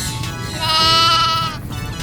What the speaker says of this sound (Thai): เป็นแพะนะครับ